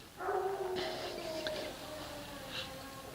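A dog named Diesel howls and whines in drawn-out, wavering tones in the background, fairly faint, with a couple of brief higher yips.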